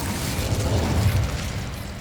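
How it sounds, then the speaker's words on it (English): Casting the Incendio fire spell in the video game Hogwarts Legacy produces a loud, low whooshing roar of flame that swells and holds for about two seconds, heavy in the bass, with no voices. "Incendio!"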